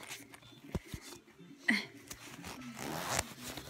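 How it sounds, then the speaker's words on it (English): A coat zipper is tugged and worked open in several short, quiet scraping pulls, with a brief zip near the middle and soft voices in the background. "Why won't your coat unzip?"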